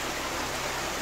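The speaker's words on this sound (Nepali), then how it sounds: "अनि बग्ने खोला" A mountain stream flows steadily nearby, a soft, even rushing wash of water with no breaks, faint and alone.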